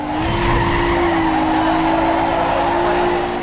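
Car drifting in the video game NFS Underground 2, a loud sustained tire squeal with a steady pitch riding over engine noise for the whole stretch, no voices.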